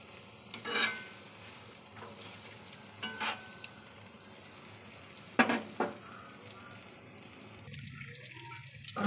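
Lentil dumplings (dudh bora) made from biuli dal frying in hot oil, a steady low sizzle running throughout with a few sharp clinks and scrapes of a utensil stirring in the pan.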